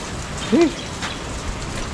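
Steady rain from Typhoon Christine pours down around a house in Nueva Ecija, Philippines, a constant hiss of drops on surfaces, with a brief faint voice-like tone near the start.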